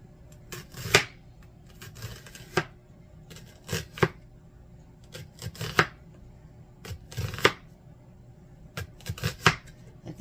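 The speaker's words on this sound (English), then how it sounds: "we're just going to get those in nice thin slices" Knife slicing pork into thin slices on a cutting board: a string of sharp, irregular cuts and scraping strokes, close and fairly loud, with no talking.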